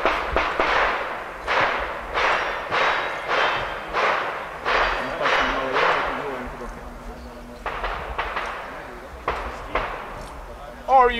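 Gunshots at a shooting competition in Gothenburg ring out as a rapid series of loud sharp cracks, about a dozen in quick irregular succession, a few more after a pause, with voices nearby.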